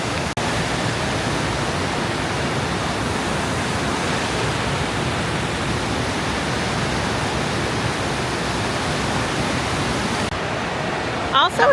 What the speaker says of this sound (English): you can see those waves that are crashing in to the end of the wave pool over there